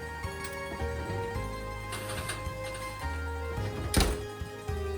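A pizza is slid into a home oven: a few dull thumps and a sharper clank near the end as the pan and oven door move, heard close against a faint steady hum, with no talking.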